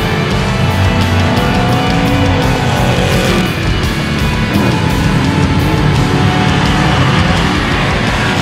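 A truck engine running on 112 octane fuel roars loudly and steadily at close range, a dense droning rumble with slight shifts in pitch and no speech over it.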